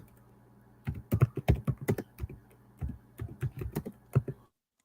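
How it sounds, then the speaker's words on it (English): Someone types on a computer keyboard in quick, irregular bursts of clicky keystrokes, a close, moderately quiet clatter with short pauses over a faint low hum, then stopping abruptly. "I hear them typing."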